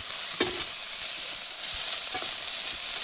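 Chopped ivy gourd leaves tossed into a pan of frying eggplant, a continuous close sizzle with a couple of brief spatula scrapes as the mix is stirred, no voices.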